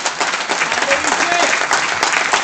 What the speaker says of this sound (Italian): Questo è l'applauso più bello della mondo.